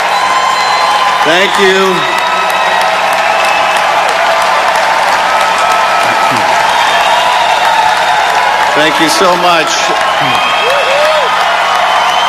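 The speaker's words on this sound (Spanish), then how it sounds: "Ese aplauso es un plebiscito" A rally crowd in California applauds and cheers continuously, loud and dense throughout, with whoops rising above the clapping while a speaker on stage says thanks over the noise.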